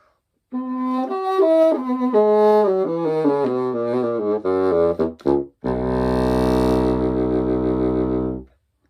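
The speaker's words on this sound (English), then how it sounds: "if I put it on the bassoon, because it is so big and long, is a really deep instrument" A bassoon plays a run of low, reedy notes, then holds a deep, sustained note to the end, played alone without speech.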